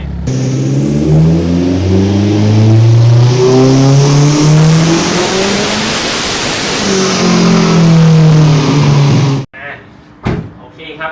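A Honda Civic FD with a turbocharged K-series engine and DSG gearbox revs loudly and continuously in manual mode, pitch climbing and falling through shifts, then cuts off abruptly near the end, leaving brief quiet with faint knocks.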